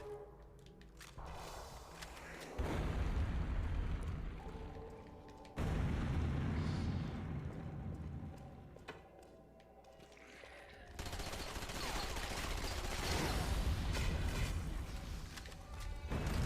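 Rapid machine-gun fire and heavy explosions from the shooter video game Conduit 2, loud dense bursts in three long waves with brief lulls between, and no talking over them.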